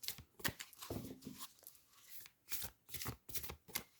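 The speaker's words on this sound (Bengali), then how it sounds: "আমি আরেকটি কার্ড নেব, আরেকটি ডেক থেকে," Close, quiet shuffling of an oracle card deck: a run of rapid riffling card bursts, then a card is drawn with a soft slide, and no one speaks.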